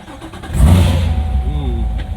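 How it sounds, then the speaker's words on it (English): A stick-shift car's engine catches and starts, rising into a low, loud rumbling idle close by, with a voice briefly heard over it. "Being a stick, it's not in gear. We'll start the car."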